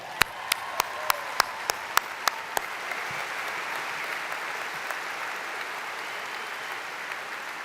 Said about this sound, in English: and that deserves an applause.